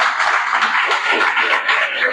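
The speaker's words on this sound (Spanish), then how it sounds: "vamos a dar un fuerte aplauso al Señor" A congregation claps for the Lord at the close of a Sunday morning church service, a steady even wash of many hands heard fairly close, sustained without pause.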